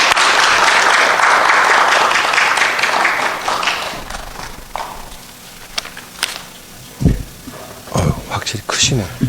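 A church congregation at a Sunday service applauds loudly to welcome the preacher, the clapping fading after a few seconds into scattered sounds and someone speaking.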